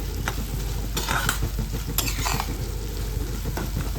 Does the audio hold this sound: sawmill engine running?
no